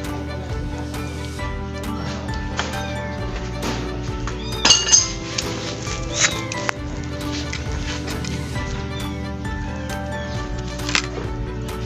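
Metal washer and nut clinking during motorcycle stator conversion work: scattered light metallic clinks and taps, including a brief cluster in the middle, set against steady background hum.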